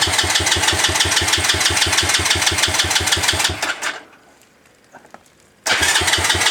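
A Chinese 125cc quad engine runs loud and close with a steady rapid idle pulse, cuts out briefly into near silence with faint clicks, then fires up again and keeps running.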